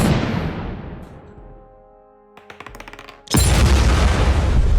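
A naval gun sound effect for the battleship Triumph firing at Gallipoli: a big booming blast decays into ringing tones, then a rattle of smaller reports leads into a second loud, sustained roaring blast, no talk.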